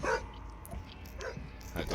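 A dog in a video game barks and yips a few times at moderate distance, mixed with game sounds and background noise, with a person talking over it.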